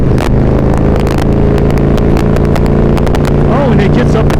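Engine of a BBC motorcycle, a feisty, torquey bike, rumbling steadily with a strong low drone throughout as it rolls on while being ridden, a rider's voice talking over it and wind noise close by.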